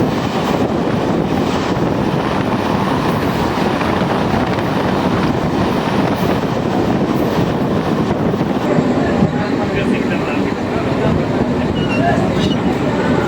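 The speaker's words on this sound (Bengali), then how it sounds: "এটা ট্রেন এখন ছেড়ে দিয়েছে।" A passenger train pulls away from a station toward Raniganj, giving a loud, continuous rumble and rattle of wheels and carriages heard from on board, with a faint murmur of voices underneath.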